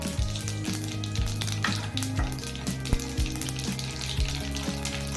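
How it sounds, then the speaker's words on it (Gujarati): Mustard and cumin seeds hit hot oil in a pan over a lowered gas flame, making a dense, loud sizzle with crackling pops throughout and a low hum underneath, with no talking. "હવે આપણું તેલ સરસ ગરમ થઈ ગયું છે. તો હવે આપણે ગેસની ફ્લેમને સ્લો કરી દઈશું. એમાં 1 ટેબલ સ્પૂન રાઈ જીરું નાખીશું."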